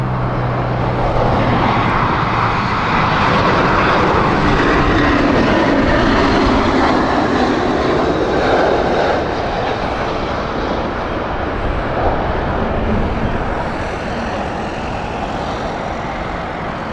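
An airliner bound for Ibiza roars past at Heathrow, a loud, broad jet rumble that swells early, holds strong, then eases slightly toward the end, with no voices.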